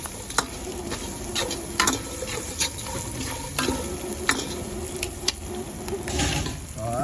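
Seasoning mix for salt and pepper pork chops, with fish powder added, is stirred in a pan with steady scraping and clinking strokes over a soft sizzle, close and moderately loud, with no talk.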